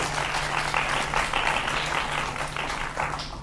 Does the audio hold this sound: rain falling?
no